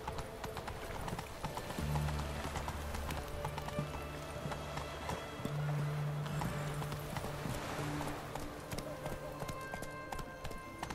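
Galloping horse hooves in The Witcher 3: Wild Hunt patter rhythmically and steadily, with an occasional neigh, set against game music and ambient sound.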